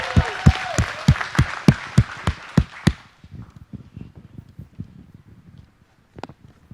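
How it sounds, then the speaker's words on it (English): Audience applause at a Fall Summit event, about ten sharp, evenly spaced claps, loud and close, fading into quiet shuffling and a few faint taps. "Let's give her a round of applause."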